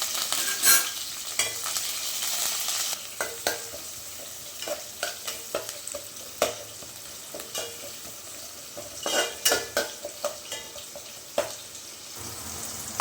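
Garlic, curry leaves and onion sizzle and fry in a pan while being stirred, a steady hiss broken by scraping and clattering stirs, with a brief splash of running water.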